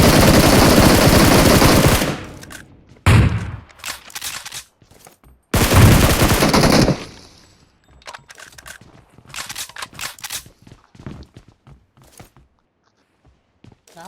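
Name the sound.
gunfire in the video game BGMI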